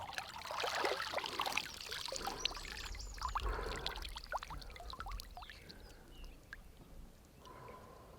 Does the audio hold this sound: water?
yes